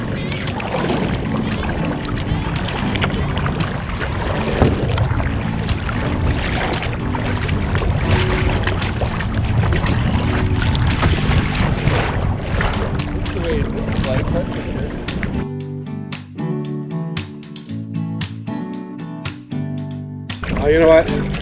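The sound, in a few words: kayak paddling on a river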